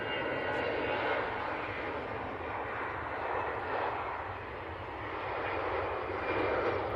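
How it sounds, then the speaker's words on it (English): A Ryanair passenger jet landing, heard as a steady broadband engine roar at moderate distance that holds for several seconds and swells slightly near the end, with no talking. "Decent Ryanair landing there."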